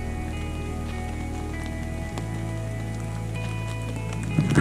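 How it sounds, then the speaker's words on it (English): Steady rain patters on a surface at a campsite on a cold spring day, with a low engine-like hum underneath that shifts pitch midway and a few louder drops near the end. "raining on a 40-degree spring day"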